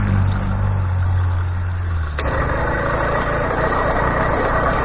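Motorbike engine kick-started and catching: a low rumbling idle cuts out briefly, then fires again with a rougher, unsteady running sound, close and fairly loud.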